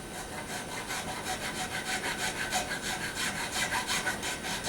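A small file or saw cutting a groove into a guitar nut slot, rapid rhythmic back-and-forth rasping strokes, close and steady throughout, no voices.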